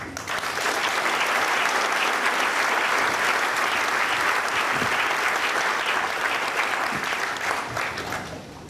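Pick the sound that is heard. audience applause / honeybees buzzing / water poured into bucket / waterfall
audience applause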